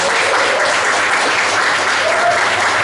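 A theatre audience claps in steady, dense applause at a constant loud level from start to finish.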